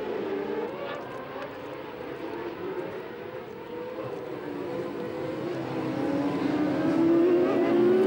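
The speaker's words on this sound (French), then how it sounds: "La course est lancée et très vite, Perret passe devant Masson." Supersport motorcycles racing at the Le Vigeant circuit in a French championship round, a dense, continuous engine drone at some distance with rising pitch as bikes accelerate, growing louder toward the end.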